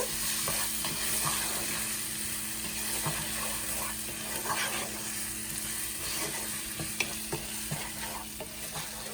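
Stirring turmeric and salt into pav bhaji vegetables in a pan makes a steady soft sizzle with scattered scraping and tapping of a spoon throughout, fairly close, with no talking.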